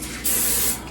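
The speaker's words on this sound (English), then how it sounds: "I'm first going to spray my grill" A single short hiss of cooking oil sprayed onto an indoor grill before cooking kabobs, loud and close, rising sharply and fading after under a second.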